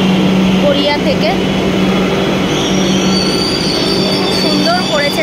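A Kolkata metro train rolls into the station with a loud, continuous rumble and high squealing wheels and brakes, close by, while people talk over the noise.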